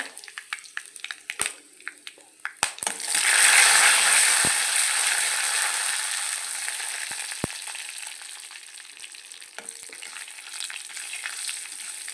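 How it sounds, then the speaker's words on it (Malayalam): Curry leaves and a dried red chilli dropped into hot oil after mustard seeds, for a village-style beetroot stir-fry: a few sharp clicks, then a loud sizzling burst that settles into a steady, fading crackle, close by with no talking. "കരിവേപ്പിൻ്റെ ഒരു വറ്റൽമുളക് ഇട്ട് കൊടുക്കുക"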